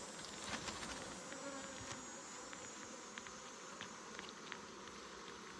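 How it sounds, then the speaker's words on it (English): Honey bees swarming at the front of a hive, a faint continuous buzzing hum with occasional brief louder passes of individual bees close by, no voices. "try to shake the bees to the front of the hive here."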